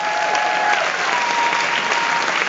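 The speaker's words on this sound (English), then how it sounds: "Let's hear it for Aunt Timpson" Dense, loud audience applause fills a packed cinema at a Midnight Madness film festival screening, continuous clapping with no gaps and a faint crowd murmur underneath.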